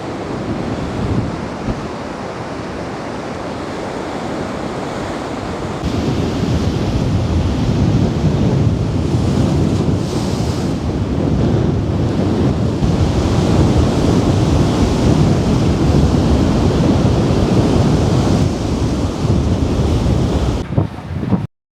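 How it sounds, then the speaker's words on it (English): Choppy sea waves wash and splash against the crumbling Blackpool sea defence near a go-kart track, a steady broadband roar of surf that grows louder partway through, with wind buffeting the microphone throughout. "you can see the sea is again a little choppy down this way"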